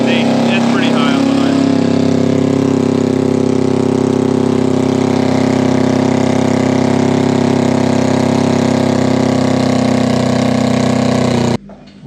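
A Kawasaki engine on a go-kart idles steadily and loud for about eleven seconds, a low even drone that holds constant before cutting off abruptly near the end.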